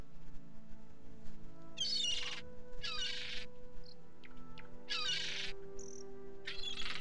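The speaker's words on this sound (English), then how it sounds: "so you can hear how frequent these seagulls make noise" Seagull calls from the Skyblivion video game mod repeat every second or so, in short bright squawking bursts over a steady low ambient drone with faint chirps, heard alone without talk.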